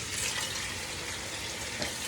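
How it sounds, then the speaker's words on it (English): Hot water is poured into a cooking pot of wing and okra stew, a steady soft splashing and gurgling pour heard alone. "And then add a little bit of water,"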